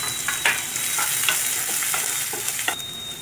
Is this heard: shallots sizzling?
yes